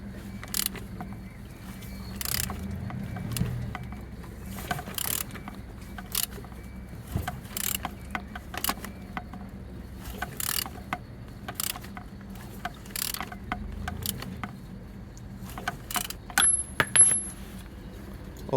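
A sparse series of sharp mechanical clicks and ticks as an LM52USP engine is turned over by hand, irregular and fairly close over a quiet background.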